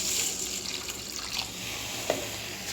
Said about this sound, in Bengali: এখন ডালটাকে আমি ধুয়ে নেব